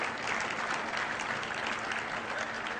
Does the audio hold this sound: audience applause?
yes